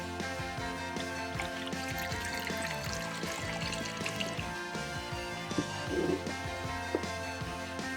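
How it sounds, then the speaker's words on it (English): Milk poured into a mixing bowl of Jell-O pudding mix, a soft steady liquid trickle and splash heard faintly in a kitchen, with a few small clinks near the end. "dump it into a mixing bowl, add the prescribed amount of milk."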